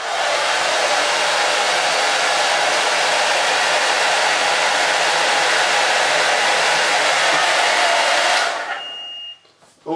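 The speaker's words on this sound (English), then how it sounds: "I'm now going to set it off with the hairdryer" A hair dryer blows steadily and loudly on a rate-of-rise heat detector, a constant close whoosh that cuts off near the end, leaving quiet.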